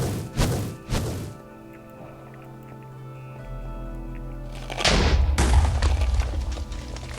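Mortar blasts in Minecraft with the Twilight Forest mod, two sharp thumping impacts close together at the start, a low droning hum, then a louder, rumbling blast later on.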